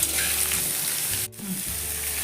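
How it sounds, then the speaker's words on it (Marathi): Mango pieces sauté in hot oil in a pan for a Marathi methamba relish, a steady close sizzle with a short break where they are turned. "आता या आंब्याच्या फोडी सर्व याच्यात घालून चांगल्या 2-3 मिनिट परतून घ्यायचे आहेत."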